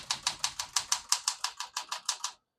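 Typing on a 1968 Smith-Corona Classic 12 portable typewriter set to single spacing: a steady run of about a dozen crisp, evenly spaced key strikes, close and clear, ending abruptly in silence.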